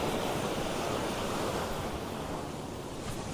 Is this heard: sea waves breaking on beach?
yes